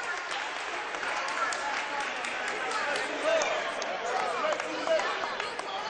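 A high school basketball game crowd applauds and cheers steadily in a gym, with a few louder swells, under a play-by-play announcer's voice.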